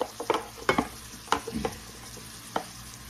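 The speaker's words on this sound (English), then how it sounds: "I'm going to add all my chopped veggies that I did earlier. My onion, my jalapenos." Chopped onion and jalapenos stirred into a pot for chili, the veggies sizzling quietly while a spoon scrapes and clacks in several irregular bursts, close by with no voices.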